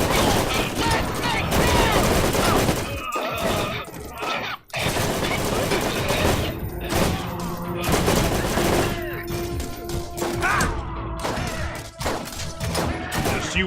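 Machine guns blaze in the Borderlands 1 co-op shooter, firing dense rapid bursts with brief pauses and thuds as voices talk over the fighting.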